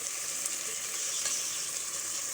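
Meat fries in a pot with ginger and garlic, giving a close, steady hiss and sizzle with fine crackling throughout.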